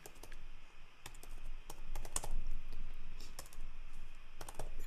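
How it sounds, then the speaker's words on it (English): Typing on a computer keyboard: a run of quick, uneven key clicks and taps at close range, steady for several seconds with no voices over it. "I could type that in"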